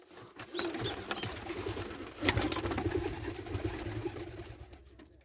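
Fantail pigeons coo softly and repeatedly in a loft near the nests, low throaty calls layered over faint rustling, with no voices.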